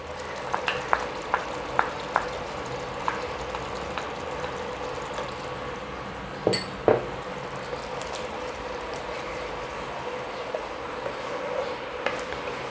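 Mustard seeds and black cumin fry in hot oil for fish cooking, giving a soft continuous sizzle broken by scattered pops and light crackles, with a couple of louder clatters near the middle.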